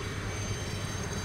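A Westland Scout helicopter in Flight Simulator X gives a steady, dense engine and rotor drone, loud and continuous through the whole short stretch with no talking.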